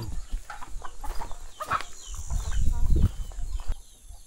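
Native chickens cluck at close range in a quiet rural setting in Infanta, Pangasinan, giving scattered short clucks with soft low rustling and a louder burst near the middle.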